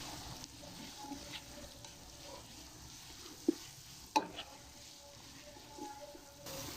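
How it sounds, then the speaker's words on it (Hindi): Onions frying until brown for aloo chicken give a steady, fairly quiet sizzle with a couple of sharp utensil knocks midway, no voices over it. "प्याज जो है वो तकरीबन हमारी फ्राई होने वाली है"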